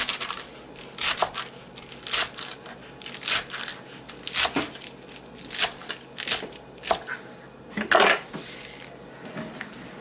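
A knife taps repeatedly against a cutting board in uneven bursts of chopping salad vegetables, close and clear, with no talking.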